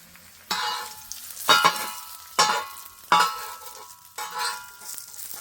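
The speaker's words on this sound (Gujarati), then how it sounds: "તેલ ગરમ થઈ ગયું છે હવે આપણે પાપડ ભરેલા છે ને એને તળી લેશું" Stuffed papads fry in hot oil, each one dropped in with a sharp burst of sizzling that swells and fades, four or five surges in a steady rhythm, close and fairly loud with no talk.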